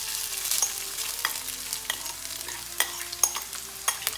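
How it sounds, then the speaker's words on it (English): Freshly grated coconut sautéed in ghee over a low flame for coconut ladoo, a gentle sizzle with light, intermittent spatula scrapes and clicks, close and quiet, no voices. "saute the coconut in this ghee for a couple of minutes"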